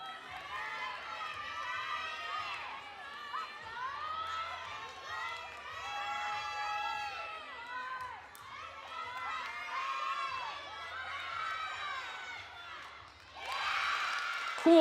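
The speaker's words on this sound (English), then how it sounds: "All these athletes are cheering for each other." College gymnasts cheering and shouting for a teammate during a balance beam final at a championship, a continuous chorus of high voices calling out, with a louder burst of cheering at the end.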